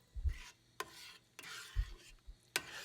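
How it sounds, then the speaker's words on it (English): A spoon stirs red chili seasoned with cumin and chili powder in a pot, giving scraping strokes with soft thuds at an irregular rhythm, close up and moderately loud with no voices. "we're just going to mix it all in together real quick there"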